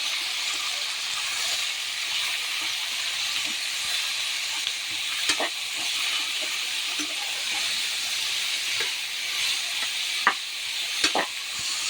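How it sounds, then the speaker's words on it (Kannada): Kabuli chickpeas and potatoes frying in a little oil, a continuous loud sizzle with scattered sharp pops and stirring scrapes throughout. "ಕಾಬೂಲ್ ಕಡಲೆಕಾಯಿ, ಆಲೂಗೆಡ್ಡೆ ಹಾಕಿ ಚೆನ್ನಾಗಿ ಫ್ರೈ ಮಾಡ್ಕೊಳ್ತೀನಿ ಸ್ವಲ್ಪ ಆಯಿಲಲ್ಲಿ"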